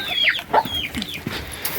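Chickens clucking and squawking nearby in quick, uneven bursts, several birds overlapping.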